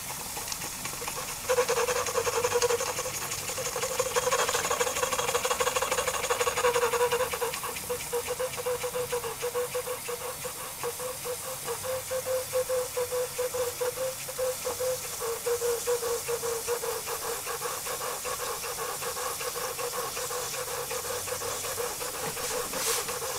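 Jensen Ram live steam engine running, a steady close hiss of escaping steam with a fast rattling chuff and mechanical clatter underneath, louder in the first several seconds and then settling into a constant even rhythm.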